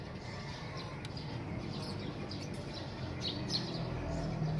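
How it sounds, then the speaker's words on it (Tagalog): Wild birds in the trees behind a house chirp outside a window, with scattered faint high tweets over a steady, dense background hiss. "Ito, nasa bintana po ako nakapisto niyan, may mga ibon dyan."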